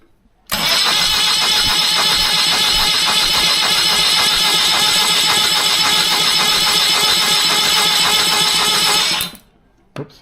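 A freshly assembled 1976 BMW 2002 engine is spun over by the starter, a loud steady mechanical whirring and cranking that runs for about nine seconds without catching, then stops abruptly, followed by a small knock.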